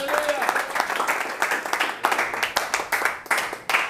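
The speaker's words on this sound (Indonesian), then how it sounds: "Berikan sorak-sorai buat Tuhan." A church congregation applauds and cheers during a sermon, with dense rhythmic clapping and a murmur of voices that stay steady across several seconds.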